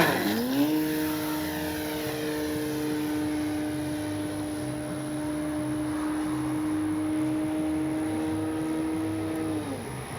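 A large Hangar 9 J-3 Cub radio-controlled model plane flies overhead, its engine holding a steady buzzing drone after a quick rise in pitch at the start, then dropping away near the end, moderately loud throughout.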